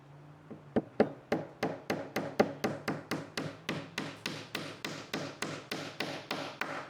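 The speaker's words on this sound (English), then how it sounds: "take a small hammer and tap it into the hole." Steady, evenly spaced taps of a small hammer on wood, about three per second, close and crisp, with no talking.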